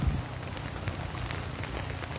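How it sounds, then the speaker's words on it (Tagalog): Rain starting to fall over the town of Gabaldon, Nueva Ecija, a steady broadband patter of drops on surfaces that continues evenly throughout, with no voices. "nagsisimula na nga po ang pagpapak ng ulan dito po sa bayan ng Gabaldon"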